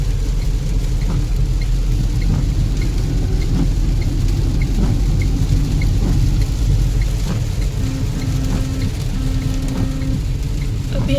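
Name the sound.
heavy rain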